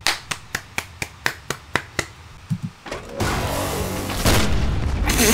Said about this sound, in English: That explosion was a bit unnecessary.